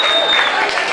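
Short burst of audience applause for a singer at a live show, dense clapping and crowd noise at close range.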